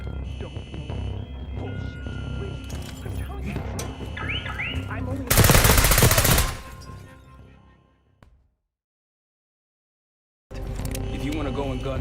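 Gunfire in the Call of Duty Black Ops 6 campaign: a dense, loud burst of shots rises over game music and voices, breaks off into near silence, then loud combat noise returns.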